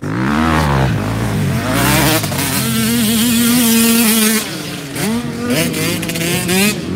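A motocross bike engine revs hard at close range, its buzzing pitch rising and falling through repeated throttle blips and a short pause, with no talking over it.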